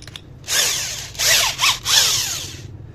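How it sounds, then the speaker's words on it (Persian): An electric drill revs in three or four bursts at high speed, whining loudly and bogging down briefly as it bores into wood, with short pauses between. "برای سوراخ‌کاری رو چوب باید سرعت دریل بالا باشه"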